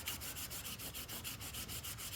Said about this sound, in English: And I'm just sanding this down, trying to get the high